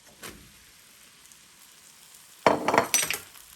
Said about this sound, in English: Add in my tomatoes at this point.